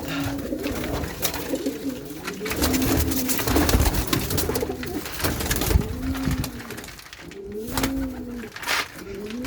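Pigeons coo inside a coop, repeated low rolling calls rising and falling close by over a busy background of rustling and faint chatter.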